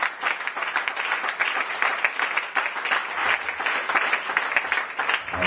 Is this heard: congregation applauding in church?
yes